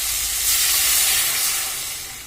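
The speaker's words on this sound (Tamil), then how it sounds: "இப்போ குழம்பு ஊற்றணும்" Crab curry sizzling loudly in a hot pan, a broad steady hiss that swells in the first second and then tapers off gradually, with no voices.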